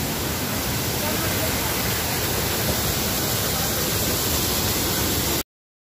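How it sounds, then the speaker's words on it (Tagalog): The waterfall at Secret Falls in DRT roars as a loud, dense, unbroken wash of falling water close by, constant for several seconds before cutting off abruptly. "See how beautiful falls it is."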